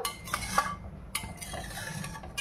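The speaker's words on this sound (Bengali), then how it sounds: "মশলাটার সাথে জলটা ভালো করে ঘুটে দিলাম" A spoon scrapes and clinks against a metal pot while stirring spice paste with water, a few irregular knocks over soft background noise.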